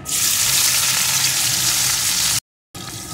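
Chopped onions frying in hot oil in a pan, a loud continuous sizzle that cuts off abruptly near the end, then resumes briefly.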